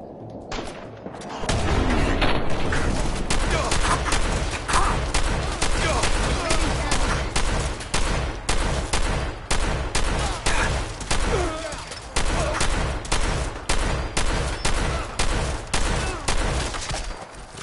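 Rapid bursts of gunfire rake across a stealth-build player caught in a spotlight during a PS4 shooter game, dense and loud, with repeated volleys and booms continuing steadily throughout.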